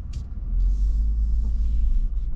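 A 2024 Lexus GX550 engine rumbles low and steady while the SUV backs up, a continuous deep drone close by with no talking.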